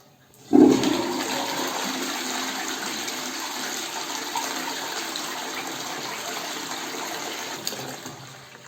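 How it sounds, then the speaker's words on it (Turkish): A toilet flushes nearby in a bathroom, with a sudden rush of water followed by a steady, loud gushing and refilling that lasts several seconds. "Şimdi sifonu çekelim."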